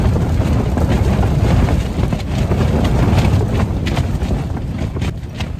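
Strong wind of around 50mph, with heavy rain, buffets a tent while wild camping in Snowdonia: a loud, continuous rumbling roar with constant flapping and gusting close around the fabric, with no break.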